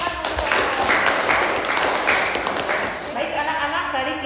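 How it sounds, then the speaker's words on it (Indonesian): Classroom of students clapping for a classmate, a brief burst of moderate applause that fades toward the end, with a voice talking over it. "Kita berikan tepuk tangan untuk Rahmawati."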